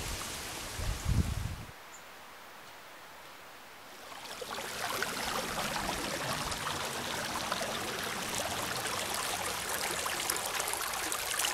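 A low rumble first, then after a brief lull a steady, rushing babble of a river running over rocks continues, close and constant, in the Dolly Sods Wilderness.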